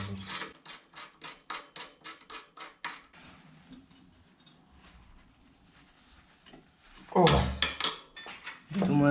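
A bicycle crank puller presses a crank arm off its spindle, giving a quick run of rhythmic metallic ratcheting clicks, a quieter stretch of faint scraping, then a louder grinding, creaking burst near the end.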